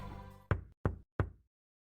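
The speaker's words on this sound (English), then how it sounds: "Just then, someone knocks on the window." Three sharp, close knocks on a taxi window in the Steins;Gate visual novel game, evenly spaced after a fading tone, with no one talking.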